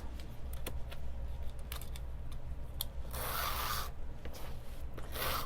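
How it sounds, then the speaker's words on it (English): Small adhesive tape runner dispensing tape onto paper while assembling a journal file organizer, a quiet close rubbing and zipping sound in short bursts, with a brief louder rasp near the end. "So I'm using just a little tape runner."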